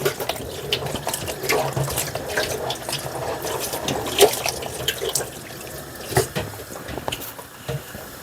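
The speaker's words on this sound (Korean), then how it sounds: "자몽이 굉장히 열을 받았기 때문에 차가운 물에 흠뻑 적셔줘야 됩니다" Close splashing and sloshing of water as hot grapefruit is soaked in cold water, with irregular swishes and drips and no talking.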